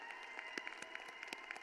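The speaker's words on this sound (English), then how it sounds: "Just give them a round of applause, please." An audience applauds newly commissioned Medical Corps officers at a university commencement ceremony, with scattered claps under a steady tonal hum. The applause is faint and distant.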